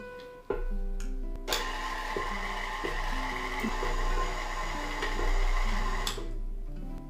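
A stand mixer with a paddle attachment churns sourdough dinner roll dough in a steady, continuous motor hum with rhythmic knocking from the paddle, starting abruptly and running close and fairly loud until the end.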